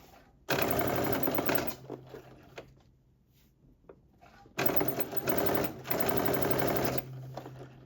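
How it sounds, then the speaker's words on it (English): A sewing machine stitches the side seam of a sweatsuit band in two long, steady bursts of rapid whirring with a brief quiet pause between. "we're going to stitch the other side of the side seam of the band all the way across"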